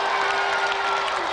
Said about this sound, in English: let's give another round of applause for Clive Barton and Richard Walkling.